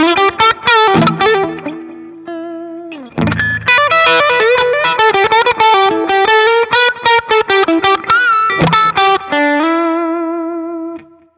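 An electric guitar on the bridge pickup plays through a TC Electronic Dark Matter distortion pedal, with loud, close chords and picked runs separated by brief pauses and a final ringing chord that fades out. No one speaks.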